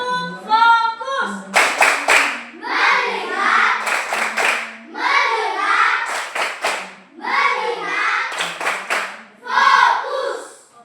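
A classroom of standing students performs a rhythmic focus clap, sharp bursts of unison claps in a repeating pattern alternating with chanted group voices, several cycles in a row, led by a teacher.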